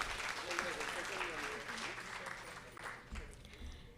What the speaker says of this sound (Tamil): எங்கே உங்களுடைய கரகோஷம் சஹானா ரட்னேஸ்வரன் அவர்களுக்கு?